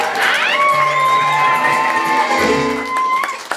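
Cheering and shouting from a church congregation, loud and close, with rising whoops and voices over a sustained tone, ending on a short sharp knock.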